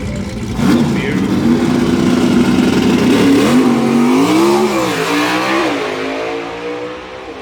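A 1975 Plymouth Duster drag car with a swapped-in Hellcat engine revs hard nearby, its tone climbing and holding in a loud sustained roar, then wavering and easing off, with people talking over it.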